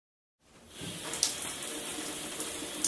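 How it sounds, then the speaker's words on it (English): A shower runs in a steady, full hiss of spraying water that starts abruptly after a brief silence and continues evenly, fairly close. "I am going to take a shower right now."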